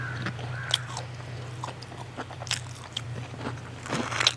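Crispy fried raw banana bajji, a street-food-style fritter, is bitten into with loud, close crunches and crackles, several sharp bites spread over a steady low hum.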